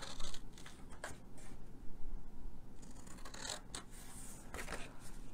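Ribbon scissors snipping through paper while making a craft treat box, giving a run of close, crisp cuts and rustling paper handling with no talk.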